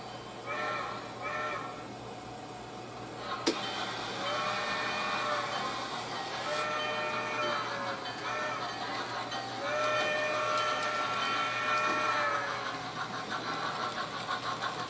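A Bachmann Spectrum Pennsylvania Railroad 2-6-0 model steam locomotive, number 3236, circling a layout while pulling a coal hopper and boxcars, with a steady mechanical running hum and repeated chuffing whistle-like tones, close and continuous, with one sharp click.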